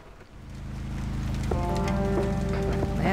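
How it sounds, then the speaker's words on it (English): Steady video-game rain patters against a window in a constant hiss, joined partway through by soft sustained musical tones. "There's nothing quite like the soothing sound of rain falling on a window."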